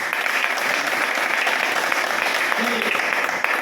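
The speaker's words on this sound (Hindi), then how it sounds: "ताली बजाइए एक बार" Steady applause from a crowd fills the whole stretch, dense and even, with clapping loud and continuous throughout.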